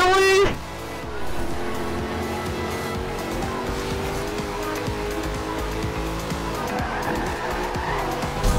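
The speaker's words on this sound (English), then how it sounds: "Oh, what a drift." A car drifts through a racing video game, with a long screeching tire skid and a steady engine roar that hold for several seconds under game effects.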